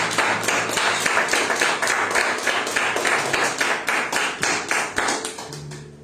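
A church congregation claps along in a steady, rhythmic beat at a worship service, loud and close, with many hands striking together in even pulses.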